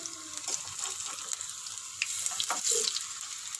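Jackfruit appam fries in ghee with a soft, continuous sizzle, faint and close, with light crackles and small pops swelling briefly toward the end.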